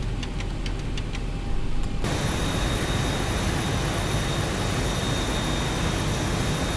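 Airliner engines spooling up for takeoff in the X-Plane 12 flight simulator, a loud steady broadband roar with a high whine that suddenly swells after a short lower-level start and holds continuously.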